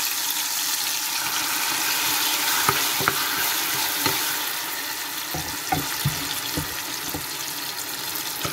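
Plantain frying in hot oil in a village kitchen, a steady broad sizzle with occasional sharper pops and spatters, close and continuous, no voices.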